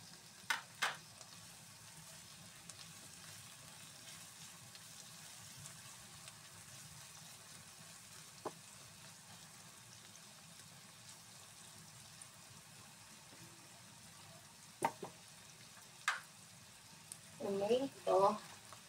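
Tomato frying in a pan at home, a soft steady sizzle running throughout, punctuated by a few clicks and clinks of utensils, with a louder burst of stirring near the end.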